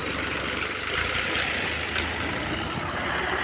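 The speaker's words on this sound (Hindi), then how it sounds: "रेत में ट्रैक्टर के चलने का अंदाज देखें।" Tractors driving through sand while filling in soil at a building site give a constant mid-to-low engine rumble, steady and fairly close, with no speech over it.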